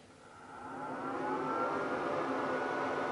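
A wide format printer and plotter whirs up after being switched on, a steady mechanical hum that rises gradually in pitch and level over a few seconds and then holds, close and continuous with no talking.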